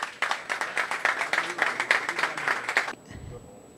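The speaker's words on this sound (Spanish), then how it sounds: "Fuerte el aplauso para Eric" Crowd applauding a cycling award winner at a prize ceremony, steady lively clapping from a room of people for about three seconds before cutting off abruptly into quiet.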